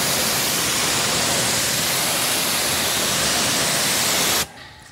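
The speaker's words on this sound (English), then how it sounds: "All right, let's rinse this off." A hose sprays rinse water over a Techno Violet BMW E36 M3 with M-Cross wheels, a steady loud hiss of spray that cuts off abruptly near the end, leaving faint background noise.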